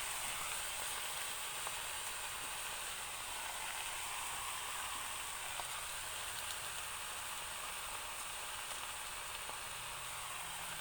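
Spinach with salt stir-fried in a pan gives a steady, even sizzle that runs unbroken throughout, fairly soft and close, with no talking.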